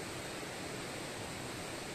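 A mountain stream flows beside a pond in a cold, damp valley, a dense, steady rushing wash of water that holds constant and close for the whole moment.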